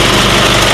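An Isuzu 4HL1 Turbo Max engine in a cargo dump truck with tailgate runs steadily at idle, a continuous close rumble with an even drone and no talking.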